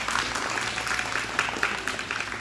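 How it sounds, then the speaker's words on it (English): Steady audience applause fills the space, a dense continuous patter of many hands clapping at even strength with no voices standing out. "Let's give Oscar a round of applause."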